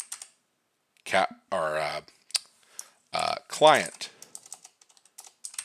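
Computer keyboard keys tap in quick light bursts, mostly interleaved with someone talking close by.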